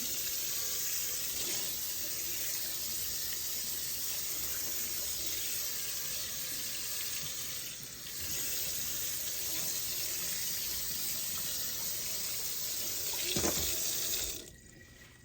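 Hot tap water sprays steadily onto a griddle during cleaning, a dense continuous hiss of running water that holds for about fifteen seconds, with a brief dip near the middle, before cutting off at the end.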